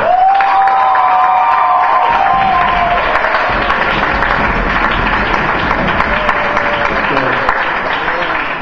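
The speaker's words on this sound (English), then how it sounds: "we have to give a big round of applause for God" A youth group breaks into loud applause and cheering, with thick continuous clapping, whoops and shouted voices, and a high sustained yell at the start that fades before the noise settles into a steady roar.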